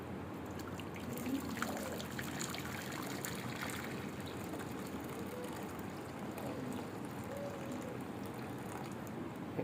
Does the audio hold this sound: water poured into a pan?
yes